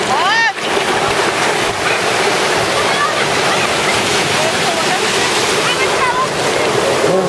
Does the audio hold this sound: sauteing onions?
no